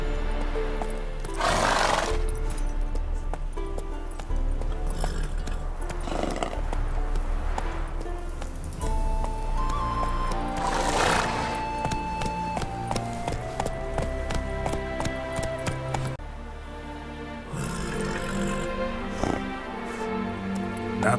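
Roach, a horse in The Witcher 3: Wild Hunt (Hearts of Stone), gallops with steady clip-clopping hooves and lets out a few whinnies. Game music plays throughout underneath.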